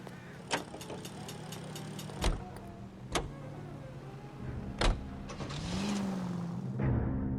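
Car in the video game L.A. Noire, set in 1940s Los Angeles: a low engine hum with a few sharp clicks and thumps of doors or mechanisms, then the engine rising and revving near the end, no talk.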